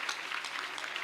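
A church congregation claps during a French-language worship service: a short, even patter of many hands, soft and somewhat distant, with no voices on top.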